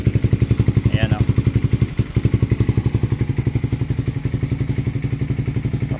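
An all-stock Raider 150 motorcycle engine runs steadily with a fast, even pulsing thrum and a light mechanical clatter, close and loud throughout, with a brief thud near the two-second mark.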